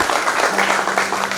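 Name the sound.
church congregation applauding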